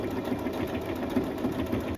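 A sewing machine stitches a small test piece with a steady, rapid mechanical chatter, close and moderately loud, running evenly from start to finish with no talking.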